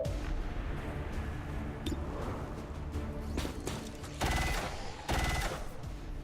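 Game weapon fire in XCOM 2: War of the Chosen during a street fight, with rapid bursts of gunfire and heavy blasts, loudest in two sharp volleys near the end over a dense battle backdrop.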